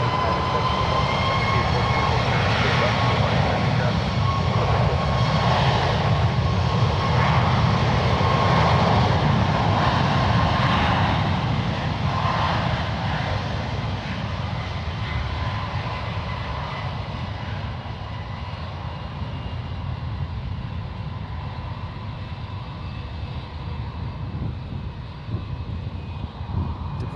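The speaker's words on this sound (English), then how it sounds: "Departing now, we got Air Canada 760 headed back to Montreal." An Air Canada Boeing 737 MAX jet takes off from runway 28 Left at San Francisco International Airport, its engines roaring loudly at first, then fading as the plane climbs away.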